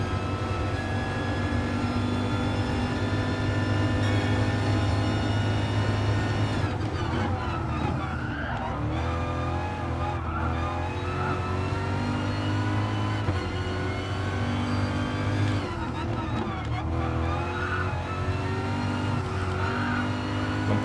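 Race car held at full throttle in Gran Turismo Sport, a loud sustained engine whine with shifting pitch and brief rough patches from gear changes or tyre noise, continuous for the whole stretch with talk over it.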